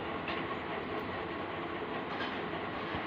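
A train rolling along the rails, a faint steady rumble with soft rhythmic clickety-clack from the wheels and no voices.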